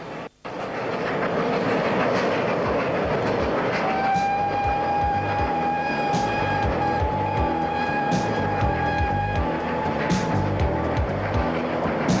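A steam train rumbles steadily past crossing the Swan River bridge at Fremantle, with a rhythmic clickety-clack of wheels, and a long whistle-like tone sounds midway through, loud and continuous.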